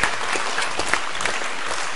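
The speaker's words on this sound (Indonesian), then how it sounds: "boleh tepuk tangan dulu semuanya teman-teman" A crowd applauds steadily, a dense wash of clapping hands filling the room without a break.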